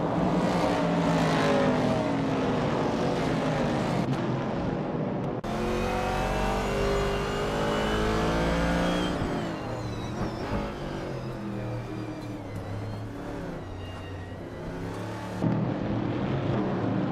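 A 1968 Dodge Dart race car in a racing game drones steadily at high revs, its engine note rising and shifting through gears with other cars around it, loud and continuous throughout.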